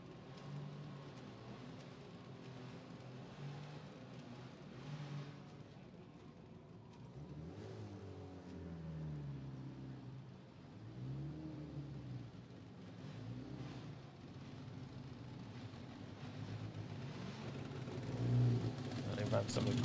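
Four-cylinder race cars accelerate at a Friday testing session of a drag event, a steady engine roar that swells and rumbles continuously at mid distance, with a voice talking over it.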